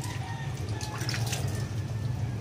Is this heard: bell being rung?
no